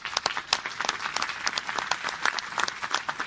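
A seated audience at a Mexican pension panel event applauds its commentators, a dense, steady round of clapping from many hands with no voices over it.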